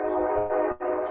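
A train horn blares loud and close to a house in one sustained, harmonic-rich blast that briefly dips and resumes, with no one speaking over it.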